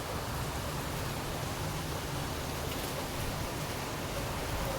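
Steady rain pours outside during the first rains of the season, an even, continuous hiss of falling water, moderately faint, with no voices over it.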